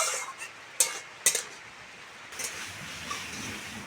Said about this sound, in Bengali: এভাবে নেড়ে চেড়ে ভালো করে কষে নেব